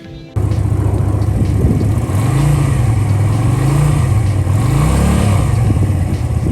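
A 250cc motorcycle engine, comparable to a Suzuki Intruder 250 cruiser, idles loud and close and then revs in several rising and falling swells. The low engine note is steady and no one speaks.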